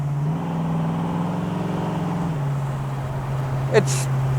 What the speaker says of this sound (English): The exhaust does have some throat to it.